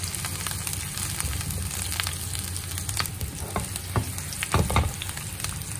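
Ginger sizzling in hot oil in a pan while being stirred for a chicken stir-fry, a steady close crackle with scraping spatula strokes that grow louder near the end.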